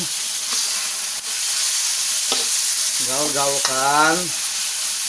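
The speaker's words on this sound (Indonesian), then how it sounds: "Dan lepas itu kita akan goreng, kita akan gaul-gaulkan." Soy sauce pork frying and being stirred in a pan, with a steady close sizzle throughout and scraping stirs, and a brief whining tone near the end.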